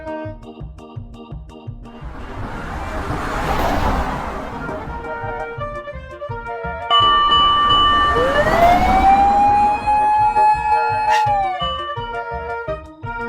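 A cartoon fire engine siren wails loudly over bouncy music, a long swelling tone rising and falling, then a clear rising whoop near the end.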